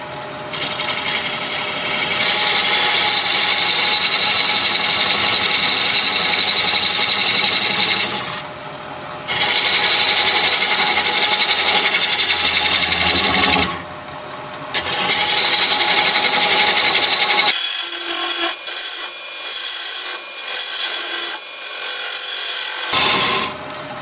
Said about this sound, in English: I'm going to be using a 1/4 inch parting tool.